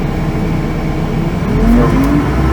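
An engine held at about 2000 RPM during a Walz LS 250 installation drones steadily and loud, then its pitch rises briefly as it revs up.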